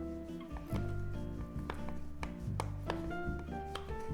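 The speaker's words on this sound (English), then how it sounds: "I'm just gonna take these dates and I'm gonna chop them up" Pitted dates being chopped with a knife on a board, a series of close, dull thuds and taps at an irregular pace, with soft music playing underneath.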